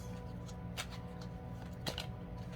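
Tarot cards being shuffled close up during a reading, a soft continuous riffle with a couple of sharper flicks, quiet and with no talking.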